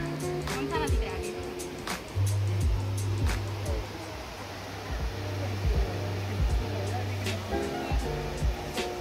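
Water from the Trevi Fountain in Rome splashes and rushes in a steady, broad hiss that runs throughout beneath a man's close, continuous talking.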